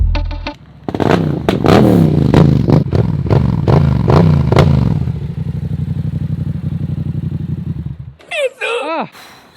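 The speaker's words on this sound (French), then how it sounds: "Premier démarrage de la MT-07 après plusieurs semaines, plusieurs mois." Yamaha MT-07 motorcycle push-started after months parked, loud clattering engine catches with rapid thumping pulses, settles into a steady idle, then cuts out, followed by a few close, brief high-pitched squeaks.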